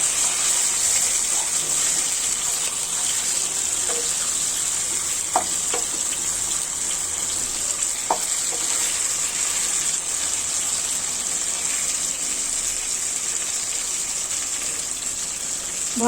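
A steady, loud sizzle of chicken and pointed gourd frying in a pan continues throughout, with occasional faint clinks and pops.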